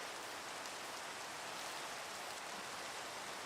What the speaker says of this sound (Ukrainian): дощ починається